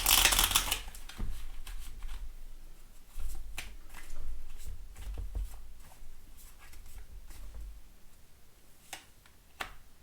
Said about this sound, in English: let's just put some more cards on this tower